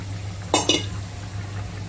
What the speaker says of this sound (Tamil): அதை நான் வந்து மிக்ஸ் பண்ணிக்கிறேன்.